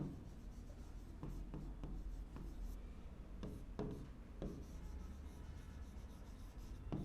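A pen writes names of electrical instruments by hand, scratching in short strokes with a few sharp taps, close and quiet over a low background hum.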